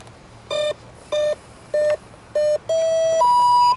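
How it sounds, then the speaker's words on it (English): Four short, evenly spaced electronic beeps at one pitch from an RC electric ducted fan jet's speed controller arming, followed by a longer tone and a final higher-pitched beep, clear and close. "the beep and then the high beep"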